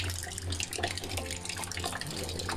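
In a village garden, rain runs from the eaves and splashes into a barrel, giving a continuous nearby splashing trickle with irregular drips over a low hum.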